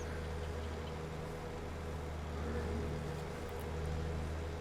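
A Fendt tractor with an uprated engine of around 250 horsepower, in the video game Farming Simulator 22, holds a low, steady idle-like drone with a slight swell midway, heard alone.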